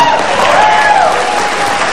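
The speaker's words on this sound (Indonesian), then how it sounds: "Tepuk tangan." An audience applauds on a talk show, dense steady clapping throughout, with a voice or tone sliding briefly over it.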